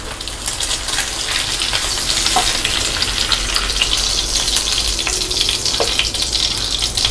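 Vanjaram fish fries in hot oil in a pan with a loud, continuous sizzle and crackle, and a few sharper pops rise from the steady hiss.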